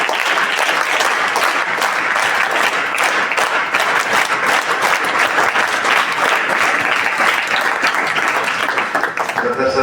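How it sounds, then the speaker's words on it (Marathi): An audience at a school science exhibition claps loudly for a teacher, a steady and dense burst of applause lasting the whole stretch, close and sustained. "आपण सरांच्या एकदा जोरदार टाळ्या वाजवून"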